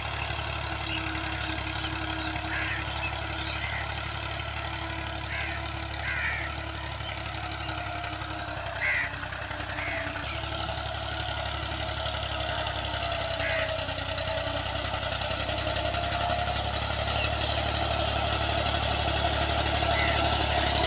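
A tractor engine runs steadily at idle for the whole stretch, a constant low mechanical drone with faint knocking, heard close and alone without talk.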